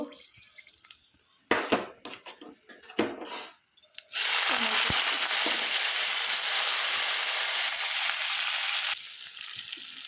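Whole cardamom pods, cinnamon and cloves are handled with a few clinks and knocks, then tipped into hot oil, bursting into a loud, sustained sizzle that holds steady for several seconds before easing slightly.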